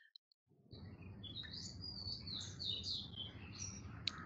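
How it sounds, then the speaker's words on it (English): Birds chirping and singing in the background outdoors: after a near-silent start, a steady wash of high, twittering calls comes in with a low ambient rumble, moderately distant, and no voices. "I hear birds at the background."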